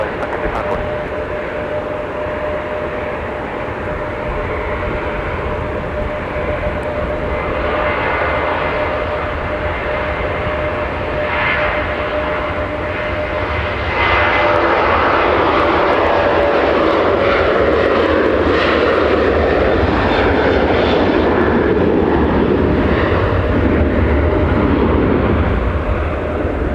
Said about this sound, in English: This is a 6-year-old 737-900ER delivered in June of 2017.